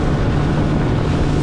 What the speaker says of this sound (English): Let's go run this boat and open her up, see what she can do.